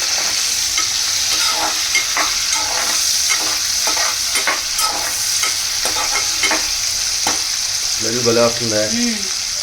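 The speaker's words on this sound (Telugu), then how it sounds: "ఇప్పుడైతే ఇవి చక్కగా ఫ్రై చేసుకోవాలి." Salted prawns fry in a pan with a loud, continuous sizzle and frequent scraping stirs close by; a brief voice-like tone appears near the end.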